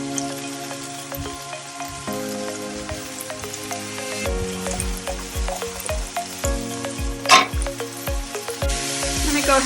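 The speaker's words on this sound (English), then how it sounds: "I'm gonna add these onions. I'm gonna pull them apart a little bit." Onions sizzle and crackle in a hot pan while cooking down to caramelize, with a steady close frying hiss, stirring scrapes and occasional louder pops and spatters; no talking.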